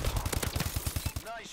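A rapid burst of Call of Duty gunfire rattles in a fast, even rhythm for about a second before a brief electronic tone ends it, loud and close in the game mix.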